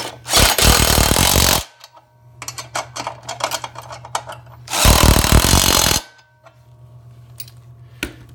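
A power tool drives bolts down on a wheel kit bracket for an ARO Timbersled in two loud, close bursts of about a second and a half each, separated by clinking and handling noises.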